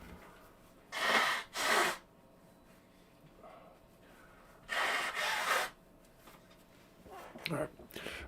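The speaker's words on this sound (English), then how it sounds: "I got to blow my nose." Two pairs of forceful nose blows come close and loud, each a short double burst of breathy rush, separated by quiet pauses, with a softer sniff near the end.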